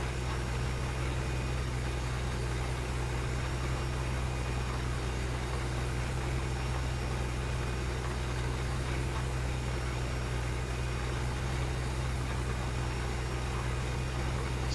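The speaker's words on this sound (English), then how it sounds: "So far I like this tractor though." A 390-horsepower tractor in Farming Simulator 2015 hums on steadily with a constant low engine drone and no change in pace, heard alone with no talk throughout.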